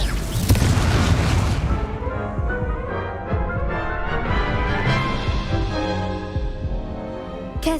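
A Confringo blasting spell in the Hogwarts Legacy video game sets off a sudden booming burst, followed by a ringing, tonal game soundscape that trails away before a sharp hit at the end.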